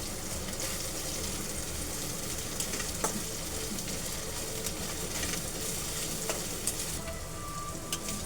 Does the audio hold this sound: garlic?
yes